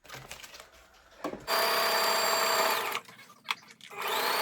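Sewing machine stitching fabric in a home DIY sewing setup, an intermittent mechanical whir that runs in short bursts and stops between them, loud and close, no talk.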